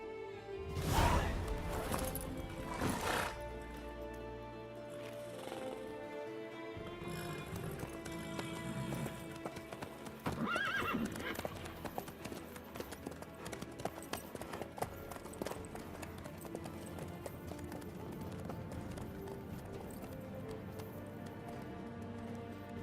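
In the Witcher 3 video game, a horse's hooves clip-clop steadily at a walking pace under a dense layer of game ambience and music, with a few louder impacts early on.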